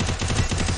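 A rapid, dense burst of gunfire from a ranked online shooter match fills the moment, loud and continuous with no voices.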